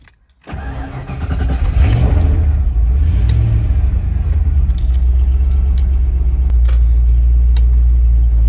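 A Foxbody Mustang engine cranks and fires up, then settles into a loud, deep rumbling idle with a couple of rev swells, heard up close with no talking.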